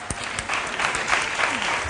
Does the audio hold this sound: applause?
yes